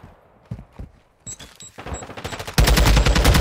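A grenade goes off in a competitive shooter video game: scattered shots lead into a sudden loud, sustained blast that fills the end of the moment.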